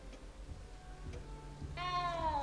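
A small cat in the Hogwarts Legacy video game gives one clear, drawn-out meow near the end, preceded by faint ticking and soft game ambience.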